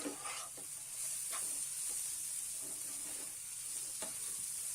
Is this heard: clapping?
no